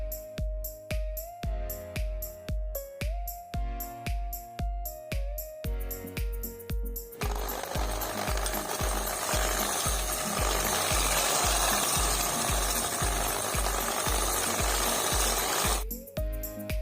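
An electric mixer whips two cups of whipping cream for a red velvet cake, a loud steady motor whir that runs for about nine seconds over rhythmic background music.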